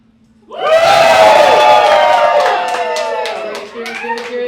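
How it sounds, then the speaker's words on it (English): A live magic show audience bursts into loud whooping, cheering and clapping, holding at full volume for several seconds before easing slightly, with scattered shouts on top. "You guys whoop and cheer."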